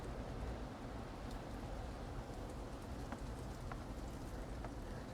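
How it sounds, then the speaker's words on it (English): Rain comes down steadily outdoors in a village setting, a dense, even patter on surfaces with occasional sharper drips standing out, constant throughout with no talk. "the rain, which is beginning to really come down now"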